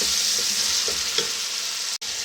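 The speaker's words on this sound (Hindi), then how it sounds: "काली मिर्च और लाल मिर्च और नमक भी हमने ऐड कर दी है। इसको अब हम भूनेंगे।" Masala seasoned with black pepper, red chilli and salt frying in a pan for chana dal pulao, giving a steady, close sizzle with faint stirring ticks and a brief break near the end.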